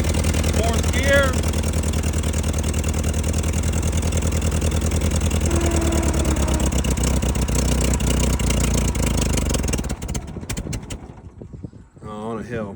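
A restored Ford 8N tractor engine runs in fourth gear, a loud, steady, close-up chugging with a rhythmic pulse that gives way to rougher sputtering toward the end; a person speaks over the engine noise.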